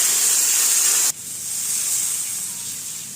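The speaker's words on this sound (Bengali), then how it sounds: "আর ভেটকি মাছের জল রান্না করছি জল দিয়ে দিচ্ছি কড়াটা খুব তাতিয়ে গেছে" Loud steady hiss of water striking a very hot dry wok with potatoes and bhetki fish, abruptly cut, then a softer ongoing simmer and bubbling.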